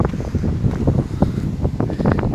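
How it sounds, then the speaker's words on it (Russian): Strong wind buffets the microphone in continuous low rumbling gusts, loud and close, with no voices. "Ветер, ребят, вы не представляете."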